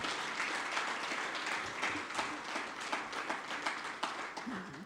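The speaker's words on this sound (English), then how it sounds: "can we give them a bigger clap?" An audience claps for the partners at a sustainable finance curriculum launch event, a dense, sustained round of applause filling the room without pause.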